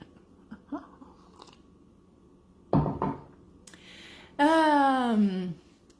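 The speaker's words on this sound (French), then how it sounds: "Je vais prendre une gorgée de thé." A quiet, close sip of tea: a short, soft slurp in an otherwise hushed room, followed by a brief rising vocal sound.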